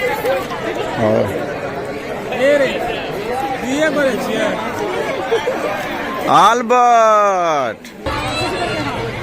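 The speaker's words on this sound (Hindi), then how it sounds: "काफ़ी भीड़ है अभी" A large crowd of children and women chatters continuously at a Christian honour ceremony at the Khoriah mission in Supaul, with many overlapping voices. A brief whistling sweep rises above the babble near the end.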